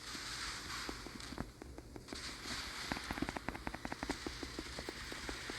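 Rapid secondary cannons on a warship in a naval video game fire in a quick rhythmic string of sharp, moderately quiet pops over a constant background rumble, thickening toward the end.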